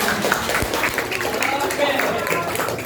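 A classroom of students claps together in a lively burst of applause, mixed with chatter and shuffling, steady and fairly loud throughout.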